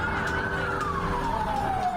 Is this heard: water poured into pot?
no